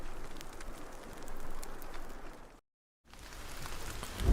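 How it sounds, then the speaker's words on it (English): Steady rain falling on a small camp in the survival video game Sons of the Forest, with a soft continuous hiss and patter, a brief silent gap, then the rain resuming. "it started to rain at our little camp"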